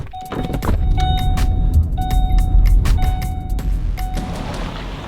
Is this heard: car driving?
yes